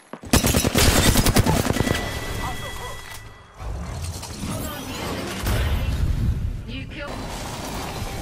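Gunfire in the shooter game Apex Legends: rapid automatic bursts crackle loudly for a few seconds, then further shots and impacts follow amid game effects, with a voice speaking over parts of it.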